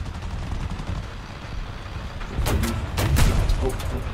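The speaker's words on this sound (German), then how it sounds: "Wo war der Schuss denn?" Gunfire in the tank game War Thunder, several sharp bursts and bangs in the latter half over a low rumbling engine background.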